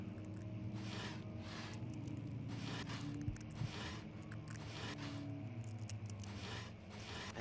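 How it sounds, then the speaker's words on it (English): Steady clicking and scraping in the dark ambience of the horror game Amnesia: The Dark Descent, like teeth grinding, repeating in soft bursts over a constant low drone throughout. "there's also this constant like clicking sound like he's grinding his teeth"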